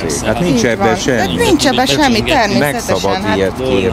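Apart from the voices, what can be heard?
No everyday noises stand out.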